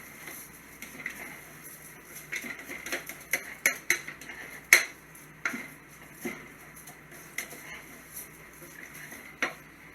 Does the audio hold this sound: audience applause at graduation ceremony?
no